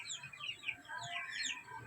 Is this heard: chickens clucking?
yes